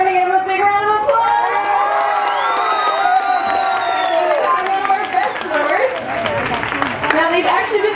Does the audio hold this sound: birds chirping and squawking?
no